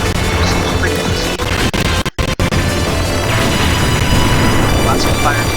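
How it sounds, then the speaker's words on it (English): Loud, dense fire and explosions from a shoot 'em up video game, a continuous crashing barrage with brief gaps near the middle, filling the whole stretch without pause. "Lots of fire and explosions."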